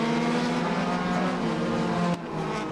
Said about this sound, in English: It's time to go figure eight racing for the final time at Irwindale.